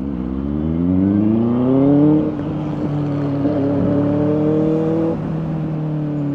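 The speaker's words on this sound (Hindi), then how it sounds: "देखो ये आवाज़ सुई सुई सुई आवाज़ आ रहा है, पतला सा, वो आगे वाले ब्रेक का है" Thin, steady squeal from the front brake of a Benelli 600i motorcycle with ABS, heard close and loud over engine hum, its pitch sliding slightly upward and shifting a few times.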